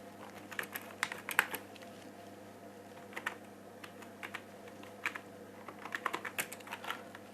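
A computer keyboard is used to type a channel name into a YouTube search, giving soft, quiet, irregular key clicks in short clusters with no talking.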